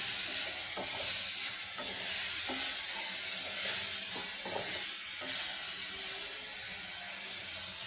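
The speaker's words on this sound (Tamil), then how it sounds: "இப்போ நல்லா வதங்கட்டும்." Tomatoes with rock salt and turmeric sautéing in a pan, a steady close sizzle and hiss with occasional stirring scrapes, no talking.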